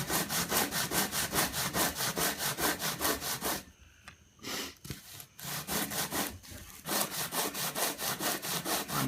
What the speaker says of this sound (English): I'm gonna use the 60 grit sandpaper.